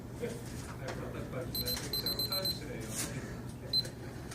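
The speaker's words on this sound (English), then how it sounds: "Keep beeping." A faulty alarm panel emits a few quick, high-pitched electronic beeps in a short cluster, fairly faint, against a steady room hum with quiet talking around them.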